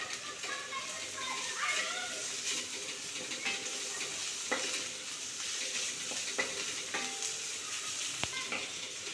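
Ginger garlic paste frying and being stirred with onions browned to a pink shade in a pan, a steady soft sizzle with scattered stirring scrapes and clinks while someone talks over it.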